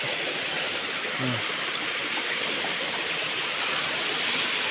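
Water flowing in a stream at a hidden natural spot in Del Gallego, Camarines Sur: a loud, steady rushing wash that fills the whole clip, close by and constant, with a brief low thud partway through.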